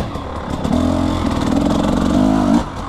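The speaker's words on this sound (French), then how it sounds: "je vais continuer gentiment à roder cette petite Husqvarna KTM" A small Husqvarna KTM dirt bike engine being broken in on a motocross and enduro track idles, then revs up steadily with a raspy two-stroke drone, holding a higher pitch before dropping off near the end.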